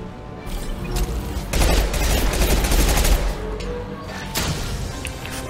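Rapid gunfire from a firefight in the video game Mass Effect 2 fills the whole stretch, with dense bursts of shots that grow louder in the middle and then ease back, with no talk over them.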